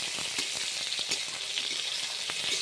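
Chopped onions, tomato and capsicum fry in a pan for veg paneer, giving a close, steady sizzling hiss punctuated by soft stirring clicks.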